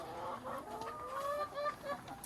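Farm chickens cluck and murmur softly in a quiet space with hay underfoot, a few close calls rising and falling with faint scratching behind them.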